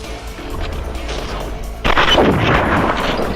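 A sudden loud gunshot blast in the video game Matrix: Path of Neo cuts through a quieter background, followed by a noisy rumbling tail.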